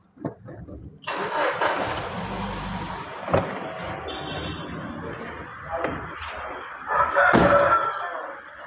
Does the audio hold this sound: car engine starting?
yes